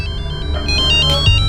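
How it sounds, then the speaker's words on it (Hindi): An electronic ringtone plays a repeating melodic pattern of bright beeping tones, loud and close, with no talking. "लगता है उनका फोन होगा।"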